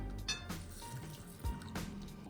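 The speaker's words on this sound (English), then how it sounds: "we're gonna pour it directly from the pan into this bowl" Browned butter pours from a pan into a large mixing bowl, making a soft, steady liquid trickle and splash that lasts about two seconds, with a few small drips partway through.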